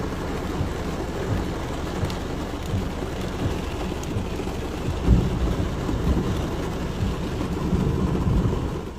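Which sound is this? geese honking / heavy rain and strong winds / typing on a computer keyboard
heavy rain and strong winds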